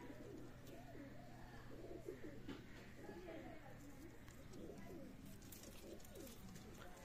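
Pakistani high-flyer pigeons coo softly and repeatedly in low, rolling phrases, with faint background chatter and rustling throughout.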